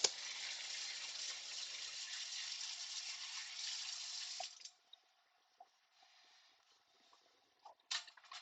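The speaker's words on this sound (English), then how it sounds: "Let me quickly wash my hands up here." Hands being washed under a running kitchen tap, a steady close rush of water for several seconds that cuts off, followed by faint splashes, drips and small clatters in the sink.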